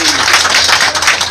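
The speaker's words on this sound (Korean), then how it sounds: "그래도 좀 박수 한번 줘요" An audience applauds during a band performance at the Jeongseon Arirang train concert: a loud, dense wash of clapping that continues steadily through the moment.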